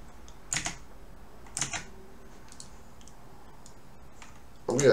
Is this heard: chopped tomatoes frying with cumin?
no